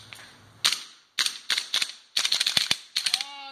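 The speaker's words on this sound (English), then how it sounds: "So let's go ahead and give this a test fire and see how this thing rock and rolls." Airsoft MK18 rifle, a modernized build, test fired indoors: several quick bursts of sharp, snappy shots with short gaps between them, close and loud, with a faint mechanical rattle after the last burst.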